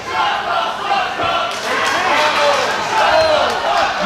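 Wrestling crowd at a live AWF High Voltage show jeering and shouting at a performer, a sustained dense roar of many voices with a few thuds, loud and continuous throughout.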